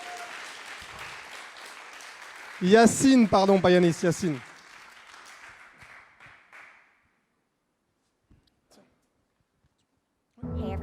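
Applause from the audience at a Paris data science demo day, steady clapping heard under someone speaking, then fading away into near silence before a brief new burst at the very end.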